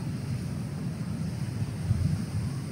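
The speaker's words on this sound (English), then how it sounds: "gale force wind blowing, but it's blowing over the bank" Gale force wind blows over a riverbank, heard as a low, steady rumbling buffet against the microphone, fairly faint and continuous with no voices.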